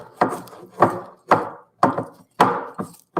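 Sticky powdered-sugar mixture being stirred by hand, six or seven thick, scraping strokes in a steady rhythm, close and fairly loud, with no talking.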